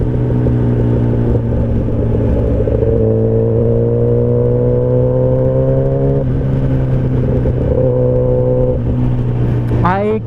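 Kawasaki Ninja ZX10R liter-class superbike on stock exhaust, heard from the rider's seat: a steady loud engine drone with rising and falling pitch as it changes revs, wind rumble underneath, and a voice talking over it.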